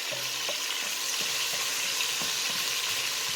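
Garlic sautés in a pan with a steady, dense sizzle throughout, broken by a few faint clinks and scrapes of a utensil.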